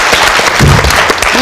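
An audience at a school education event claps together in a loud, dense burst of applause, close and steady through the moment.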